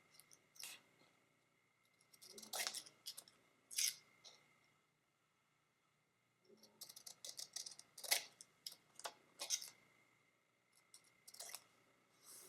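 Scissors snipping paper for a handmade card, a series of quiet, crisp cuts in uneven clusters with short pauses between them, close and alone in a quiet room.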